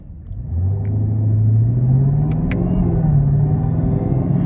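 A 2021 Chevrolet Camaro ZL1 rumbles from inside the cabin while driving, its engine and exhaust droning loud and low with a slowly rising pitch as it pulls, no voices present.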